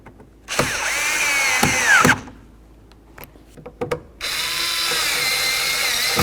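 A power drill drives two screws into a pedestal-style side mirror on a Chevy C/K truck door, with two separate whirring bursts and pitch sweeps between short clicks and handling knocks.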